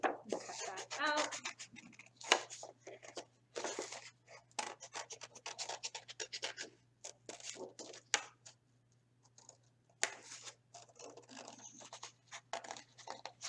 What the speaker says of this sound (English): And you can take your scissors and cut that out.